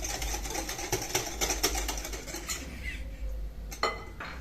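Softened room-temperature ghee is beaten in a bowl for anise biscuit dough, giving a rapid, continuous scraping and clinking of utensil against bowl that fades toward the end with a few brief knocks.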